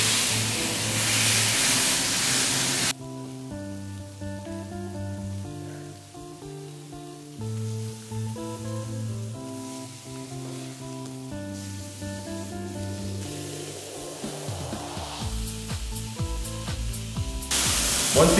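Veal sweetbreads searing in hot oil in a smoking pan, a loud hissing sizzle at the start that returns at the end, with music playing in between.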